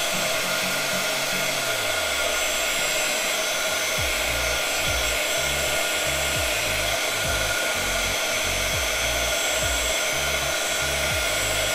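A hair dryer drying ink on a DIY tag, a loud, steady whirring roar that lasts throughout, alongside repeated low thumping pulses in the background.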